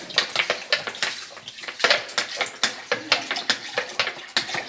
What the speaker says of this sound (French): Je vais laver le riz. Je vais le laver.